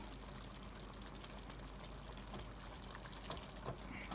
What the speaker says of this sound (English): Let's put the rice on this